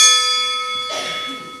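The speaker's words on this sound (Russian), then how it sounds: "А раньше вот такой скромный колокольчик." A small old hand bell from Golitsyno railway station is struck once and rings out clear and close, its bright metallic tone fading slowly and overlapped by a faint voice near the end.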